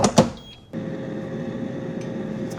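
A countertop air fryer starting up to cook chicken parm topped with mozzarella and Parmesan, a few clicks followed by a steady, close fan hum that continues alone.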